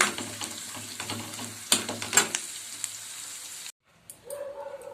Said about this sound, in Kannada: ಇದೆಲ್ಲ ಎಣ್ಣೆಯಲ್ಲಿ ಚೆನ್ನಾಗಿ ನಾವು ಫ್ರೈ ಮಾಡಿಕೊಂಡು